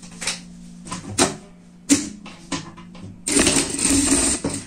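A sewing machine stitching a suede phone case: a few short, separate mechanical bursts and clicks, then a continuous close run of stitching near the end.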